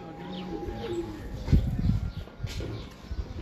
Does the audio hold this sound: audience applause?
no